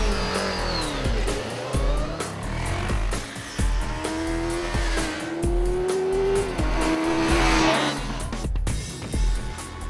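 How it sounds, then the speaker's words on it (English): A Suzuki Hayabusa and a Yamaha R15 drag race on the road, engines revving and climbing through gears with rising whine, tire noise and a passing rush, loud and continuous for about ten seconds. "we are going to drag it with India's fastest bike, the Yamaha R15"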